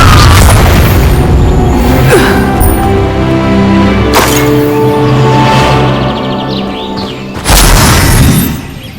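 Spell explosions in Hogwarts Legacy on PS5 erupt as heavy, loud booms, with several sharp blasts and crashes standing out over a rumbling, continuous game soundscape.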